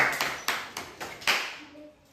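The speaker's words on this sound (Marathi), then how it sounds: "वैष्णवीसाठी टाळ्या वाजवा एकदा" A small group clapping for a child after a dot-joining puzzle game, several quick, close, fairly light claps in an uneven burst that fades out within about two seconds.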